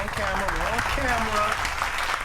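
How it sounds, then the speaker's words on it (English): A crowd claps and cheers steadily while excited voices call out over the applause. "Ladies and gentlemen, clap your hands."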